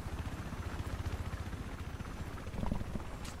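A Battlefield 4 helicopter thrums with a rapid, even rotor chop, moderately distant and steady throughout.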